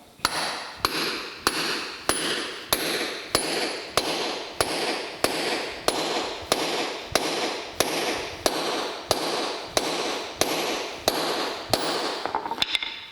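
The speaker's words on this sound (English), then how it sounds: "I'm going to take a hammer and we're just going to drive it home" Steady, evenly spaced hammer blows drive a concrete anchor into a floor, ringing out about every 0.7 seconds, loud and close, continuing for over a dozen strikes.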